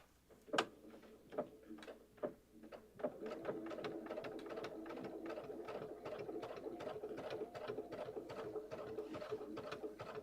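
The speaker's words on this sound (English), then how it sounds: "and then I need to sew this" A sewing machine stitching an embroidery pillow: a few isolated clicks, then a steady fast mechanical rattle of the needle running continuously, fairly faint and close.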